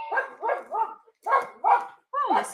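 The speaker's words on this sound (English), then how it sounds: "The dog was right to bark." A dog gives a burst of barks and yips at someone at the front door, six sharp close calls in two quick groups, loud and near.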